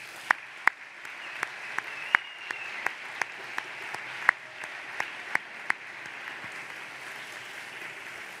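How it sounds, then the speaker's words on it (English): A large graduation audience stands and applauds, a steady, hissing roar of distant clapping punctuated by a handful of sharp, louder individual claps nearby. "join me in a round of applause to thank all of those who helped you get here today"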